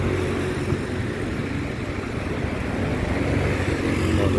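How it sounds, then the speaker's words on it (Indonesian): A car pulls up on Jalan Pemuda in Rawamangun, a tidy city street with a central garden, in front of a cafe; steady broadband engine and road rumble stays loud and near throughout under general traffic noise. "Oh, ini mobil Faisal nih guys"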